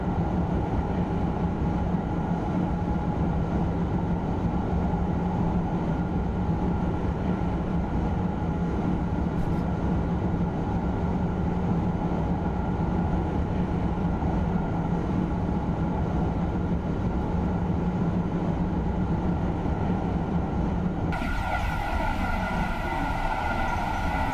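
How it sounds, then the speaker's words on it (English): Loud, steady train rumble of a TGV Reseau in a train simulator game on the Northeast Corridor, with a droning tone throughout, shifting in character near the end as the engine noise changes. "Seems kind of loud for a TGV train."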